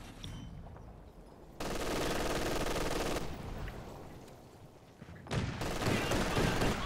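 Rapid machine-gun fire in the World War II strategy game Company of Heroes 2, sustained bursts loud in the mix with breaks between volleys, battlefield noise continuing underneath.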